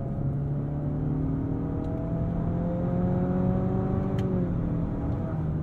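Under full throttle, the engine of a 2023 Nissan Altima SR gives a steady droning whir with slowly climbing tones, heard from inside the cabin, continuous and moderately loud with no talking.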